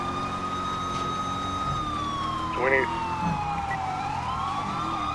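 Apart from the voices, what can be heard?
police and emergency vehicle sirens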